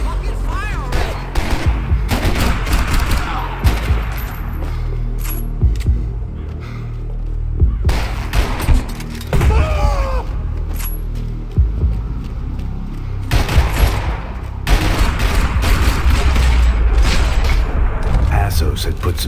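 Gunfire in the video game Max Payne 3: rapid bursts of shots and booming impacts fill the scene, loud and dense, with voices and game dialogue talking over the shooting.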